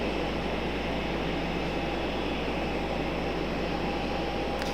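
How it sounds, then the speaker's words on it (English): Aircraft noise at night near Raleigh Durham International airport, a continuous distant droning hum that holds steady throughout with no voices. "I hear a helicopter, but I don't see it anywhere."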